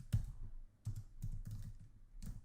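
Typing on a computer keyboard, short bursts of close, crisp key clicks in an uneven rhythm with brief pauses between groups.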